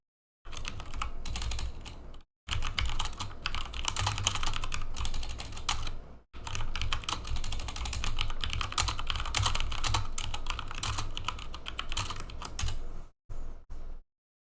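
Rapid, continuous clacking from a gaming keyboard at a gaming PC, close and busy, broken by a few brief pauses.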